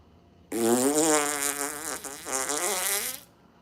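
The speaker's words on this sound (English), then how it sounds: "Do fish fart? Let's find out." A loud, buzzing fart, presented as coming from a fish, rasps for about three seconds close up. It dips briefly in the middle and then carries on to an abrupt stop.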